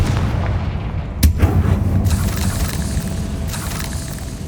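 Confringo blast spell cast in the Hogwarts Legacy video game, a loud booming burst followed by a rumbling decay and a second, smaller crack, with no speech.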